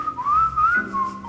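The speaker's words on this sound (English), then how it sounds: "I can whistle." A person at a high school football team gathering whistles a brief, clear melodic phrase of a few sliding notes, close and alone.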